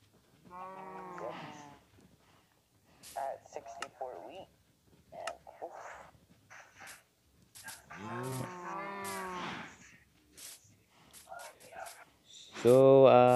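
Cows lowing in a video game, several drawn-out moos and bleat-like calls spaced across the span and clearly audible, with a voice talking between them.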